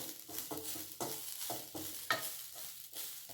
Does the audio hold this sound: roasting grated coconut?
yes